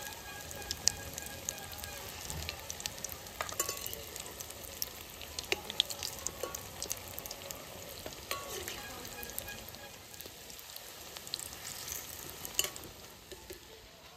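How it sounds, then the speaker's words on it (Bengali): Bora fritters frying in hot oil on medium heat, a steady soft sizzle and crackle with scattered pops throughout, close but fairly quiet, with no talking. "এই প্রত্যেকটা বড়া কিন্তু এইভাবে ভেজে নেবে"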